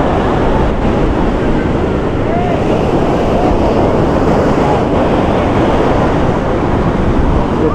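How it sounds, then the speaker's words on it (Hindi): Rough sea waves surge loudly and continuously at Somnath beach in the rainy season, a dense roaring wash of surf mixed with heavy wind noise. "बारिश का मौसम है, इसीलिए समुद्र का पानी बहुत करंट दे रहा है,"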